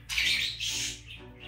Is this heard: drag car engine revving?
no